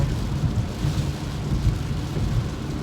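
Steady rain drumming and low thunder rumble heard from inside a car moving at about 45 miles per hour on a flood-prone road, a dense continuous wash of noise with no talking.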